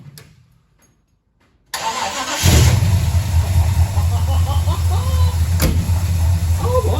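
A Holden HJ ute with a Holley carburettor cranks after a brief near-silence, then fires and settles into a loud, steady mid-pitched cold idle close by, with a sharp knock partway through.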